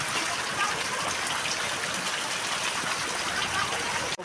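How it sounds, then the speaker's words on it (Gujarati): Heavy rain pours down in Patdi, a dense, continuous hiss of drops striking surfaces nearby, steady and loud throughout. "જો કેટલો વરસાદ ચાલુ હા"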